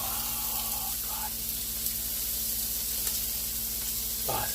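Onions and burgers sizzle steadily in a frying pan, a constant close hiss with faint stirring scrapes, the cook's voice briefly surfacing near the end.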